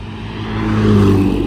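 A Bugatti EB110 race car rumbles past at Monterey Car Week, its engine note swelling steadily louder and rougher as it draws near, loud and close with no voices.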